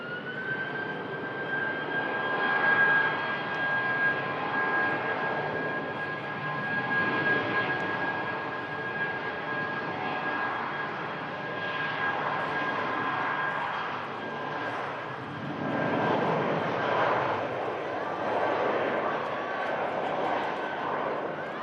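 A British Airways A319 jet takes off, its engine roar rising and swelling in waves with a sustained high whine, while someone talks over it.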